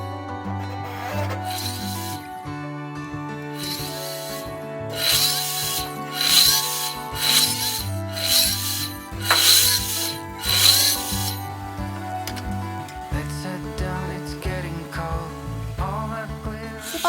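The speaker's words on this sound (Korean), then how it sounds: "조그맣게 강목을 자르고" Small pieces of wooden lumber are sawn by hand during a roof vent build, a steady rasping stroke repeating in bursts that swell louder midway, with background music playing throughout.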